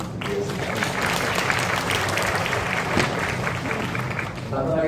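Audience applause for a school principal at a high school admissions information session, a steady dense clapping of many hands that fills the whole stretch with even loudness and no gaps.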